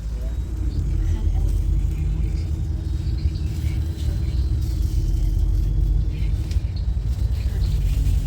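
Inside a bus travelling along a remote rural road in Offaly, a steady low engine rumble and road drone fill the space, with faint voices murmuring beneath the noise.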